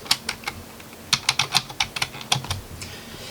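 Typing on a computer keyboard, a quick run of close, crisp key clicks in short bursts with brief pauses, loud and alone.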